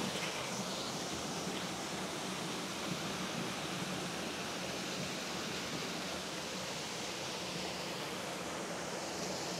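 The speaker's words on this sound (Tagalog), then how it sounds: "Ito yung taas ng falls." Waterfall with clean water and a spring nearby, a steady, loud, broadband rush of falling water that holds unbroken throughout, with no voices.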